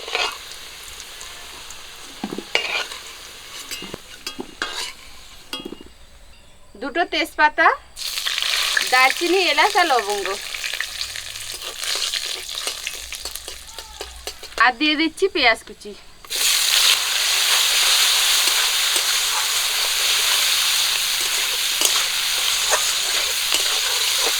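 Potatoes frying in oil with salt and turmeric for a rustic village-style mutton curry. The oil sizzles and crackles with spoon stirring, fading briefly mid-way behind short voice-like sounds, then returns as a loud, continuous sizzle.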